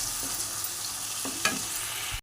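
A turmeric and chili powder mixture poured into a hot pan while making gathi kochu with prawns, giving a steady close frying hiss with a couple of sharp stirring knocks before it cuts off.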